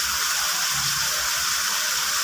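Vinegar pours steadily into a pot of pork adobo with vegetables, a continuous hissing liquid stream with a faint sizzle underneath, close and even throughout with no talking.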